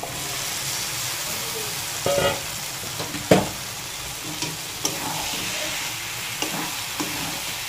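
Boiled peas and potatoes being sautéed with spices in oil for ghugni, a soft continuous sizzle with occasional louder stirring scrapes and clinks, no voices.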